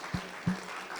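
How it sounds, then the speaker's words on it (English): A conference audience claps together, a fairly close, continuous spread of hands with a couple of louder thumps near the start, brief and unaccompanied by speech. "Let's all clap for ourselves."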